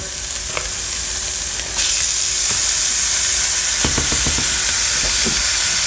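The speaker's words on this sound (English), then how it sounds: "You want to make sure you get that sizzle." A loud, steady sizzle of meat frying in a hot pan for bourbon and bacon chili, with a few scrapes and taps of a utensil against the pan.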